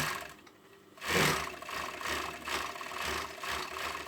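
An overlocker runs steadily while serging the shoulder seams of a hoodie, a continuous mechanical whirr with light rattle that starts after a brief lull and carries on at moderate level to the end.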